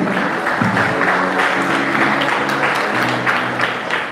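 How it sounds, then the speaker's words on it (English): Audience applause at a college scholars event, a continuous crowd of clapping that stays even and fairly loud, with a low background hum or music underneath. "Round of applause."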